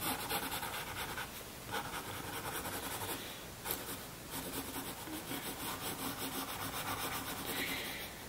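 Steady, close scratching and rubbing of pencil on paper during shading and blending, continuous strokes with brief pauses, quiet and alone.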